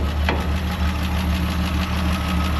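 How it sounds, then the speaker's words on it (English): A 1960 Chevy Bel Air six-cylinder idles loud and close with a steady, clattery rumble and a faint knock running through it. "it's still a clattery old 6-cylinder"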